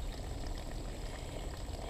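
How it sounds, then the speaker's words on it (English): Water poured into dry cement in a garden hole, a steady close wash of liquid filling and churning without pause. "the water is now being added"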